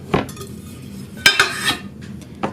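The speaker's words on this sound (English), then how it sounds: "So now I'm going to remove them from the pan." Cooled confetti cakes are worked out of a metal baking pan, producing a dull knock followed by clattering, scraping metallic clinks and a final tap, all close and fairly loud.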